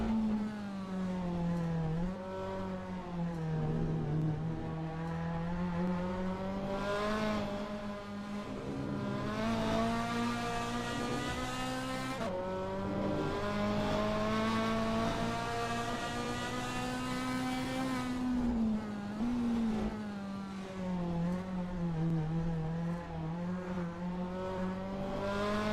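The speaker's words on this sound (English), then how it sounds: "the roar of the engine" A GT race car engine in a racing video game, at the Nürburgring sprint circuit, roars continuously at high revs, its pitch rising and falling through gear shifts, loud and close with no voices.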